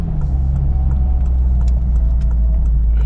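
A manual-transmission car downshifts while turning, a steady low engine drone with road rumble and faint interior clicks and rattles, heard from inside the cabin with no talking.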